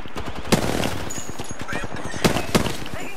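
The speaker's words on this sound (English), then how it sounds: "Taking fire!" Gunfire in the battle-royale shooter Apex Legends, rapid bursts of shots with a few sharper loud cracks standing out over continuous game noise and faint voice chat.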